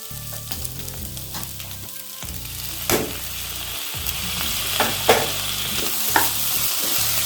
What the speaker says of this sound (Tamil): இந்த டைம் வந்து நம்ம புதினா போடுவோம்.